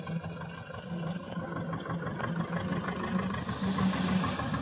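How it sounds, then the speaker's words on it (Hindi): An old Zetor 2011 tractor engine runs while ploughing a napier grass field, a continuous low, throbbing drone at moderate distance with no speech. "तो देखिए भाई साथियों, जीटर ट्रैक्टर हमारा पुराना जीटर अपना आराम से धीरे धीरे अपना सभी काम निपटा लेता है जुताई वगैरह के।"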